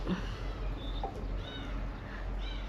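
A cat meows faintly a few times over a steady low hum, with quiet background noise throughout.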